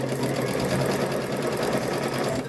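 A sewing machine runs steadily for the full stretch, loud and close, stitching fabric strips end to end for a rope bowl or placemat. The motor's whir never breaks, and no one speaks.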